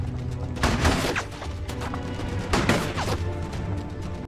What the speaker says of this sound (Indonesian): hingga aksi tembak-tembakan pun harus terjadi di sana